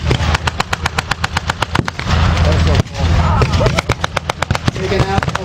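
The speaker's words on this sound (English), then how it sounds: "The Sherman continues with its 50 millimeter machine gun" Rapid bursts of machine gun fire from a Sherman tank's .50-calibre gun during an outdoor WWII battle reenactment, loud, near, rattling volleys with short pauses between them.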